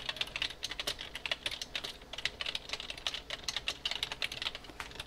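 Rapid, steady typing on a computer keyboard while working in Photoshop, with crisp clicking keystrokes in quick irregular bursts, close and fairly quiet, with no voices.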